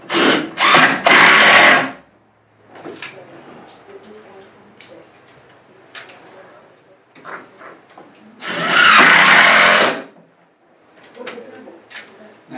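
Power drill driving 1¼ inch wood screws into the side of a bed cabinet: two loud, close bursts of drilling, one at the very start and one later, with quieter handling noises and faint chirps in between.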